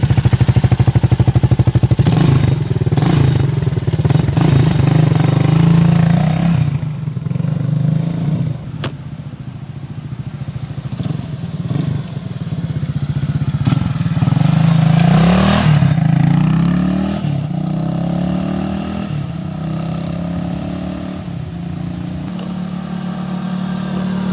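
A 1980 Honda XL185 Enduro motorcycle, a small 185 cc bike, is kick-started and fires right up, then idles and revs in several uneven surges with clattery engine noise, loud and close.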